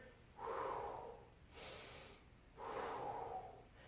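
Breath pushed out during a pelvic tilt floor exercise for the low back, two fuller exhales with a softer breath between, close and fairly quiet with no talking.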